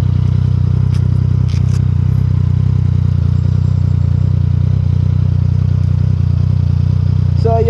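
Yamaha XSR900 motorcycle, 60th anniversary edition, on a highway test ride, its engine giving a loud, steady low drone with constant wind rush throughout.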